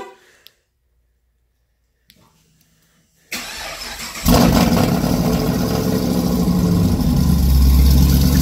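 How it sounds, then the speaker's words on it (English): Silence breaks as a Pontiac G8 GT's engine cranks and catches on a cold start, then settles into a loud, deep, rumbling idle with a raspy modified-exhaust tone. "so I just wanted to give you guys a little cold start up real quick"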